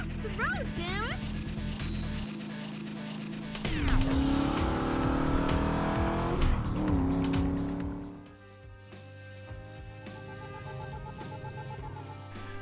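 A car in the driving game Driver revs and accelerates, its engine rising and falling, with tires squealing sharply through turns. A loud, continuous drive, with game music and sound effects mixed in.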